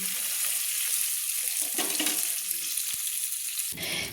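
Prawns fry in hot oil in a kadai with a steady, loud broadband sizzle throughout, broken by a few scraping knocks of a spoon lifting them out, and no voices.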